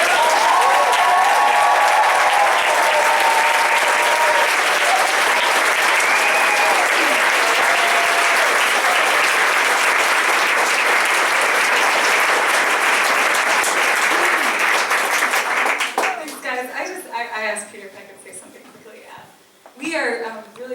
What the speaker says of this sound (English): we're going to give her a huge round of applause to give these flowers